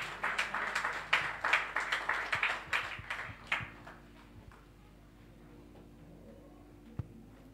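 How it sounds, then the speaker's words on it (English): Church congregation clapping in a rhythmic burst that fades out over about four seconds, followed by quiet room tone with a single faint knock. "So let's give her a clap as she comes."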